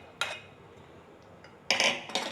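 Roasted, cooled ingredients for coconut chutney being moved into a mixer jar: a short metallic clink, then a quiet pause, then two sharper clatters of a spoon against the jar.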